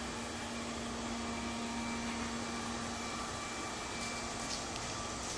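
A robot vacuum cleaner runs with a steady, loud motor whine and broadband whoosh, plus a faint fixed hum. The drone is continuous and close, with no talk over it.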